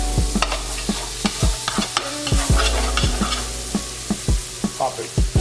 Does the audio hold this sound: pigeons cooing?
no